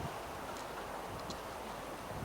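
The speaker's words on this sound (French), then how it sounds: "La bise se lève." Steady broadband night wind blowing at a constant level, a soft continuous rush with faint rustling and no voices.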